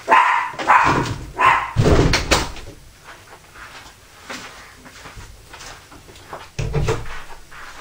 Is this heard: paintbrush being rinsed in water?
no